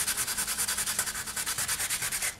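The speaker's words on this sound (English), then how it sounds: "just continue sanding along the outside" Steady rhythmic rasping of sandpaper rubbing back and forth on hard polymer clay, about ten even strokes per second, close and fairly quiet, with no talking.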